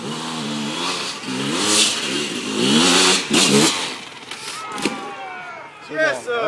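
Motorcycle engines revving and accelerating in GTA V motocross and enduro off-road races, with rising and falling pitch throughout, heard under lively overlapping voices.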